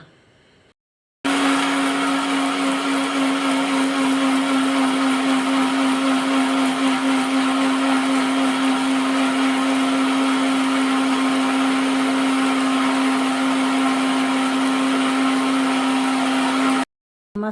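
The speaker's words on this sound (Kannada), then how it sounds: "ನಾನು ಈಗ ಅದನ್ನು ರುಬ್ತೀನಿ" An electric blender grinds fish curry masala for a sardine curry, a loud continuous whirring drone that starts abruptly, runs steadily for about fifteen seconds and then cuts off, with no voices.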